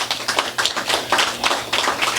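An audience claps in a stand-up comedy show, a close burst of steady applause that keeps an even rhythm for about two seconds.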